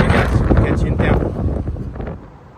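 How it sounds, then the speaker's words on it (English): Strong wind by a river on an Appalachian Trail thru-hike, buffeting the microphone in loud, rough gusts before easing off toward the end. "it's a little windy."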